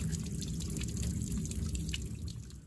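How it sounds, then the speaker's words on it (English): Water trickles and drips faintly into a wooden trough at a campsite along the Appalachian Trail, a soft patter over quiet background noise. "That's a cool little water trough."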